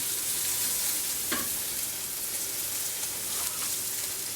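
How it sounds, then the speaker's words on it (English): Fish sizzles steadily in a hot pan on a restaurant seafood cooking station, a dense continuous frying hiss with a couple of brief louder spits, close and without talk. "Once you put the fish in the pan automatically cools down."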